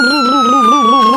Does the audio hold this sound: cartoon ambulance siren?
yes